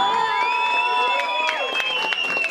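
A crowd at a Brazilian rap battle cheers and claps for the women rappers, loud whoops and shouts layered over scattered applause in a short, lively burst.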